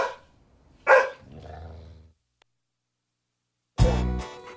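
A neighborhood dog being taken for a walk gives a sharp bark, then a lower trailing growl-like sound, then after a pause another loud bark, all close up.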